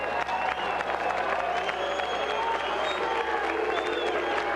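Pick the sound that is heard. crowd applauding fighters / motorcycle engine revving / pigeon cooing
crowd applauding fighters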